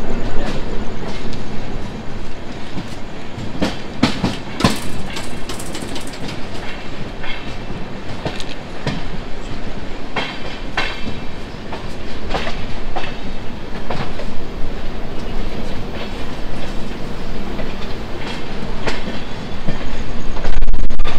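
The Sampark Kranti Express, running Tirupati to Delhi, rolls loudly along the rails with continuous rumble and repeated clickety-clack of wheels over joints, close and sustained throughout, with no talking.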